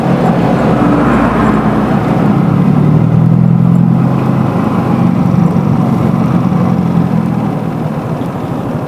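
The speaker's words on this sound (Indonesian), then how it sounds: "Banyak kendaraan gede guys dari sini." Large vehicles pass close on a road, making a loud continuous engine rumble and tire roar that swells and slowly eases, with no talking.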